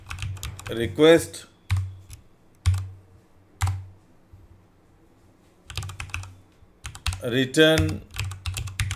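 Quick bursts of keystrokes on a computer keyboard while coding, clicking in short runs with gaps between them, as someone talks over the typing.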